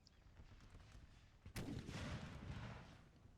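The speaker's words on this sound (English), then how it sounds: "his artillery is still here doing some work with canister" Civil War-era artillery fires canister shot in a strategy battle game, a single heavy boom at mid-clip followed by a rumbling, crackling tail over ongoing distant battle noise.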